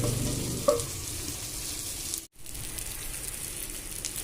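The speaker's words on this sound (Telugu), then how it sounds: "రెండో వైపు తిప్పుకున్నాం కదా, చక్కగా ఫ్రై అయిపోతుంది" Fish frying in a pan after being turned to its second side, a steady close crackling sizzle with a brief interruption partway through before the hiss resumes.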